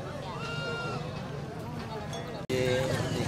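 Goats at a rural highland market in northwest Vietnam, bleating in wavering cries amid crowd noise, with people talking throughout and a louder, closer bleat near the end.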